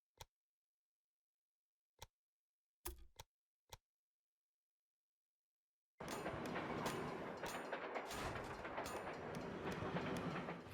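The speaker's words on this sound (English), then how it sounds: "Your train is now traveling between Omaha and Norfolk." A steam train runs on rails in the video game Railway Empire, a few sparse clicks and ticks followed by a sudden, steady, loud rolling clatter of wheels that fills the last several seconds.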